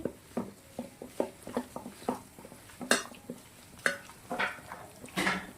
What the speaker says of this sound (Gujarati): હાથથી સરસ મજાનું આવી રીતે મિક્સ કરી દેશું.